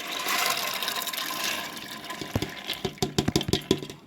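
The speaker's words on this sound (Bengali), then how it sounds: "এবার ডালটাকে ধুয়ে আমি প্রেসারে সেদ্ধ হতে দেবো।" Soaked split chickpea dal (chholar dal) being washed in water, with running, splashing water throughout and a series of sharper clinks and sloshes of grains and vessel toward the end, close by.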